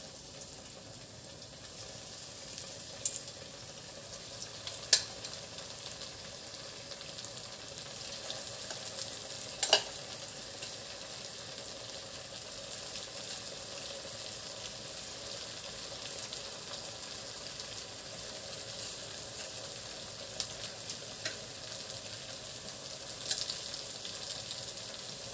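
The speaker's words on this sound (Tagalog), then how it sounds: "Finally, mainit na ang ating mantika. Tayo ay magprito na." Crispy tofu fries in hot oil with a continuous, even sizzle and crackle that lasts throughout, broken by a few sharp pops and utensil clicks, with no voices.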